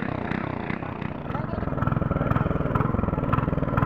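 A tractor engine works a muddied rice paddy in Konkan at the start of the farming season, a steady rumbling mid-pitched drone running throughout with slight rhythmic surges, close and continuous.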